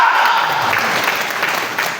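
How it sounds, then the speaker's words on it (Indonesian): A church congregation breaks into sustained applause, a dense continuous wash of many hands clapping together at steady loudness, with a faint voice briefly audible early on. "Berikan tepuk tangan"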